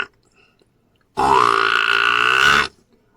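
A single sustained, loud, low moaning call from a person imitating a buffalo, rising slightly in pitch and lasting about a second and a half against quiet.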